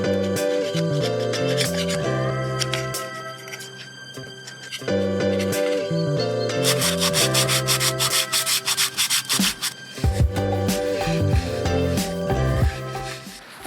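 Hard scrubbing and rubbing on the surface of a rear differential locker from an Iveco 4x4 overlander, a near, continuous rasping friction with short pauses and bursts of stronger strokes.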